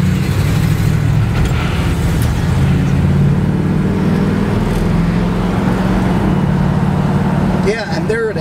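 A 1969 Chevrolet Camaro drives along a road, its engine a steady low drone with road rumble throughout, loud and close from inside the car, with a brief shift in tone near the end.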